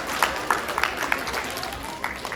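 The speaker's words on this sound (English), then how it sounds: "Let's give a round of applause anyway." Audience clapping for a volunteer at a science show, a short burst of scattered claps that stays fairly close.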